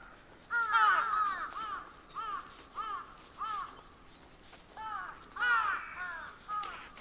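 Crows caw repeatedly at a cherry blossom park in Okayama, Japan, where litter is scattered: a series of about eight harsh, fairly close calls at uneven intervals, some louder than others, with no talk over them.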